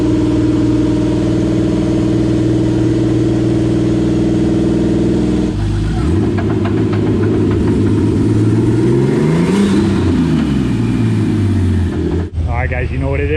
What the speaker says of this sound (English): we're just driving on it. Getting some heat into the motor